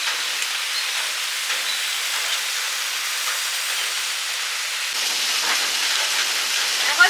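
Rain falling outdoors, a steady hiss of drops that grows slightly heavier toward the end, with no voices.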